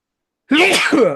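A single abrupt sneeze bursts out after a moment of silence, close and fairly loud, with a breathy, voiced release.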